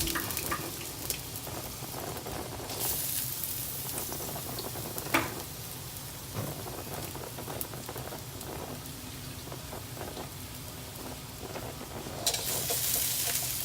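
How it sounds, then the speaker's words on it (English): Chopped onions fry in a pan for a Filipino-style Chinese cabbage and sardine dish, a steady close crackling sizzle running throughout with occasional stirring scrapes and a brief louder burst near the end. "Let's stir them to avoid the burning of the onions"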